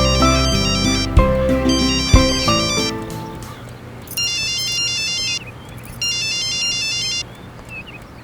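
A phone rings with an incoming call in a Hindi film scene. A melodic electronic ringtone plays clearly in repeating bursts, following a few deeper musical notes at the start.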